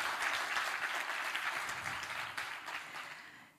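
An audience at a London concert bursts into dense, steady applause that gradually fades out over a few seconds.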